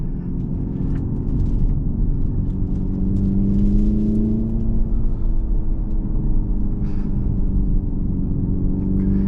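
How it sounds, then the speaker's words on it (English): A 2025 Hyundai Ioniq 5 N electric car produces a loud, sustained synthetic engine drone inside the cabin, holding high revs against the limiter with a steady rumbling tone and slight pitch wavering throughout. "Hitting a rev limiter has never been so fun."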